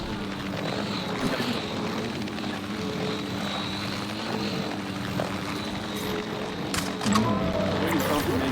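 Capture team helicopter in the video game Jurassic World Evolution 3, a steady droning rotor and engine hum running throughout at moderate level beneath game sounds and occasional voices.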